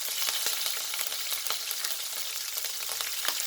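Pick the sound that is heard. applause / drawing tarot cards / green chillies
green chillies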